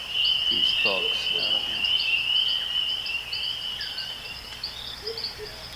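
Chorus of frogs from across North America and Central America calling steadily in a recording, with a constant high cricket trill running throughout and a few faint voices early on.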